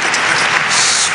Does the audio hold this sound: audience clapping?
yes